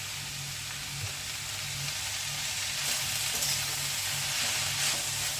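Cabbage leaves for a stir-fry sizzle in a pan with a continuous, even hiss under a low steady hum, a few faint stirring scrapes rising near the end, close and with no voices.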